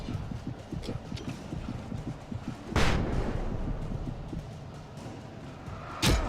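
Video game Alan Wake, with a sharp flashbang burst striking loudly over a background of footsteps and game noise, and a second short burst near the end.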